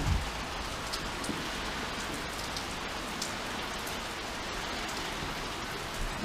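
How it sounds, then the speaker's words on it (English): Rain falls outside in a steady, even hiss of drops on surfaces, close and uninterrupted, with no voices over it. "Okay, this is rain. Now, this is rain for sure."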